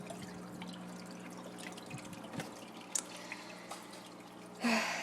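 Heavy water flow trickles and drips steadily inside a home fish tank, a quiet continuous wash punctuated by small splashes and a brief louder gurgle near the end.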